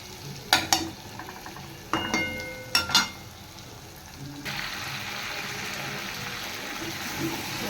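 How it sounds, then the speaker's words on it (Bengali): Meat and potatoes being stir-fried in a pan, with several sharp spatula clanks against the metal, then a steady loud sizzle that takes over. "এই যে এখন কষা হচ্ছে বন্ধুরা, সময় লাগবে কষা হচ্ছে।"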